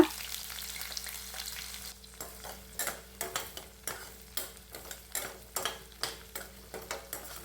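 Onion and garlic sauté in a hot pan for a village-style Sankara fish kuzhumbu. A steady close sizzle runs under regular scraping stir strokes, which come roughly twice a second in the second half.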